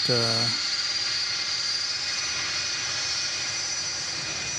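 A departing UPS Boeing 757 at DFW Airport makes a steady, broad engine roar with a high whine, continuous and fairly loud, after a brief tonal chime at the start.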